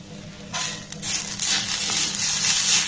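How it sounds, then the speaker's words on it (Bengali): Grated coconut is stirred and dry-roasted in a pan over a low flame, giving a steady close-up scraping rustle with a soft sizzle that thickens after the first half-second and continues without a break. "প্রথমে এই নারকেল কুড়োটাকে একটু নাড়াচাড়া করে ভেজে নেব"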